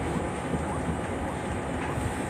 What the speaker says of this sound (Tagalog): Mahangin talaga, Lolo.